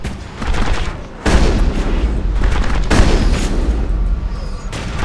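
Shotgun blasts in the video game Mass Effect, three heavy booming shots spaced a second or two apart, close and loud over continuous combat noise.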